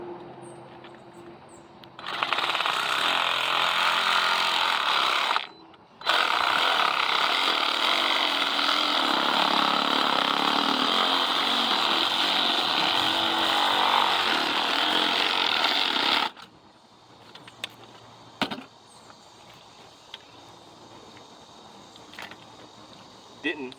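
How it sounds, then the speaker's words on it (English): A Sawzall reciprocating saw buzzes loudly and roughly as it cuts through a PVC pipe cap on a survival cache, in two long bursts with a brief stop between, followed by quieter handling clatter. "I'll use the Sawzall again."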